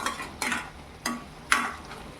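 Papaya halwa with almonds is stirred and mixed in a pan. Four distinct scraping strokes come at a slow, even pace over a low background hiss. No one speaks.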